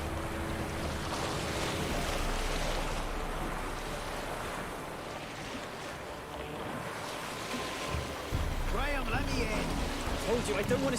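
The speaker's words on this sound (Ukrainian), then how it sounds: "Ой, як булькає під водою." Water bubbling and churning underwater in The Witcher 3: Wild Hunt, a steady dense rushing gurgle that swells louder near the end, where a voice briefly sounds over it.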